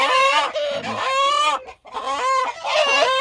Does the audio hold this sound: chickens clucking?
yes